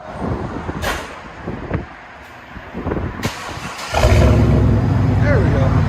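A 1998 Pontiac Firebird with a 5.7L LS1 V8 and straight-pipe dual exhaust: a few clicks and knocks, then the engine fires and settles into a loud, rough, rumbling idle close by.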